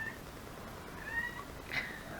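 Pet cats at home give a couple of faint, brief meows over a low, steady background hum, with no one talking.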